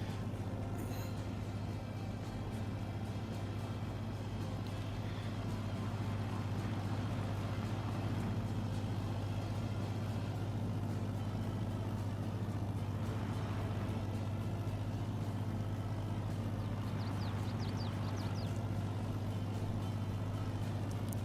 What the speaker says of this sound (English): Oh, love the sound of that Model A John Deere.